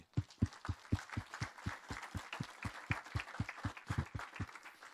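Church congregation clapping in unison, a steady fast rhythm of about four claps per second, with a faint murmur of cheering beneath, moderately distant.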